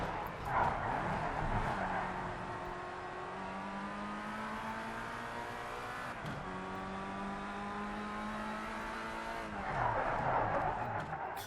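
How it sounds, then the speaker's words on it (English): A Formula Rookie race car in Project CARS 3 in VR, its rear tires losing traction. A steady, droning engine note rises and falls in pitch as the revs surge and drop, with a faint rasp of tire scrub. "Something happened where my rear wheels were just not gaining traction with the track."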